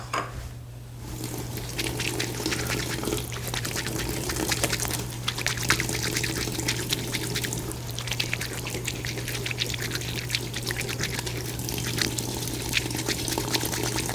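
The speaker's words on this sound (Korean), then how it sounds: "손바닥에 놓고 흐르는 물에 비벼서 씻어줍니다" Cold tap water runs steadily over stone-ear mushrooms (seogi beoseot) held in a palm and rubbed clean in a Korean kitchen, a continuous close splashing trickle with a low steady hum underneath.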